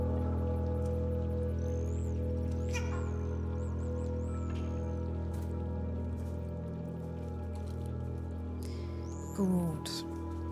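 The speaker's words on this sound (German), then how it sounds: "Die ganze Zeit Kreis gedrückt und die Katzen haben gemaunzt." Several short meows from cats in the video game Stray rise and fall over a steady droning background, spread across the stretch, with a squishy, wet noise near the end.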